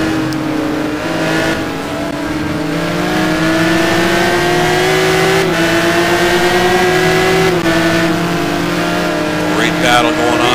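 GT race cars, a Maserati and a Lamborghini, battle at Mugello circuit, engines droning loudly and steadily with rising and falling revs throughout, under continuous commentary.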